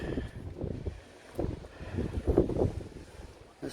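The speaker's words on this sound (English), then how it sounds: "It's a wee bit windy up here" Gusty wind buffets the microphone in uneven bursts at a high point of Marmaris Castle, rising and falling with low rumbling blasts throughout.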